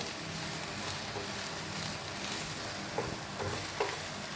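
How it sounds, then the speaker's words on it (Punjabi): Masala roasts with onions in a pan for a stuffed bitter gourd dish, giving a steady close sizzle with faint occasional scrapes of stirring. "ਹੁਣ ਆਪਾਂ 5-7 ਮਿੰਟ ਮਸਾਲੇ ਨੂੰ ਭੁੰਨਾਂਗੇ ਪਿਆਜ਼ ਦੇ ਵਿੱਚ"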